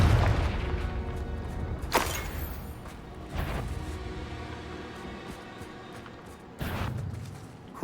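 Confringo fire spell blasts in Hogwarts Legacy land as several sharp booming impacts spaced a few seconds apart, each with a brief bright burst and a short decaying rumble over quieter game ambience.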